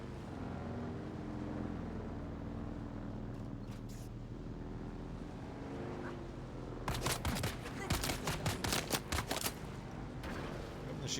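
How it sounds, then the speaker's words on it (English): Gunfire in the video game Dune Awakening: after several seconds of steady engine-like drone, a rapid cluster of sharp shots bursts out in the second half over the continuing background rumble. "I'm gonna shoot your house, dude."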